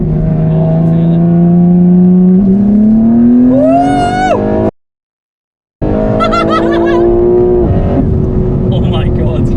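A powerful Lamborghini engine revs hard, pitch climbing through the gears, cuts out briefly, then roars and climbs again, loud and close.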